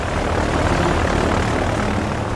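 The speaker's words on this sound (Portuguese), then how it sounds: "O Antonov 2 é um enorme biplano de hélice com um único motor." A single-engine Antonov 2 propeller biplane drones steadily and loudly throughout, a dense, unbroken engine roar with no gaps and no voices.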